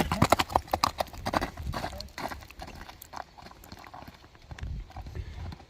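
Hooves of a walking horse clip-clop in a crisp, regular rhythm, loud and close at first and then softer, with faint voices in the background.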